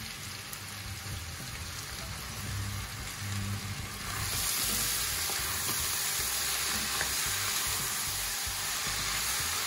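Carrots, potatoes and zucchini sauté in hot oil in a pot for a pumpkin soup, giving a steady close sizzle and crackle that grows louder and denser partway through, with no talking.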